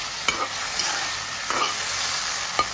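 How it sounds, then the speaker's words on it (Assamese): Fish fries in hot oil in a pan, a steady close sizzle broken by a few sharp scrapes and clinks of a utensil turning the pieces. "এইখিনি এতিয়া মাছখিনি এটা চাইড ভালকে পুৰা ভাজ খাবলৈ দিম"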